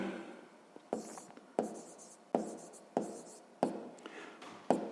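A pen scratches out a sixth-grade math solution on paper in close, steady bursts of writing strokes, each set off by a sharp tap roughly every second, with no talking.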